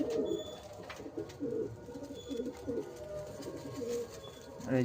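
Pigeons kept for sale coo nearby in soft, repeated throaty phrases, with faint chirps in the background.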